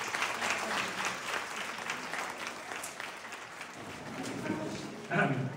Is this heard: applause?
yes